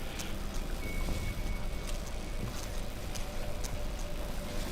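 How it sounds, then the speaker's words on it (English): A power generator runs in a video game, giving a steady, dense broadband mechanical drone with a constant rumble and faint tonal whine, unchanging throughout with no talk. "This is a power generator."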